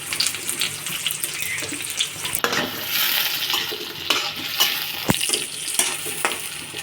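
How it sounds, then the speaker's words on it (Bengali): Onions frying in a pan, a dense hiss of sizzling with intermittent scraping and clinks as they are stirred, a louder knock midway; no one speaks. "পেঁয়াজটা দিয়ে আমরা হালকা নেড়ে চেড়ে নিয়েছি।"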